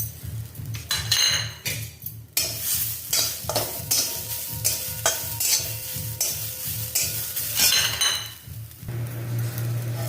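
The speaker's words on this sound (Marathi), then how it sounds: "खोबरं भाजूया।" Grated coconut dry-roasting in a pan for a Makar Sankranti mixed vegetable dish, with steady rhythmic scraping and stirring strokes, light sizzling and occasional clinks of the spoon against the pan, close and continuous.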